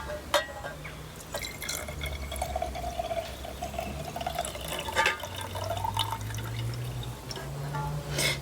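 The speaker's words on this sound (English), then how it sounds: "Now we're going to add our salt water to the jar, but leaving behind the undissolved salt still in the pan." Salt water is poured from a pan into a jar, leaving undissolved salt behind, giving a steady trickling, dripping fill for several seconds with no talking.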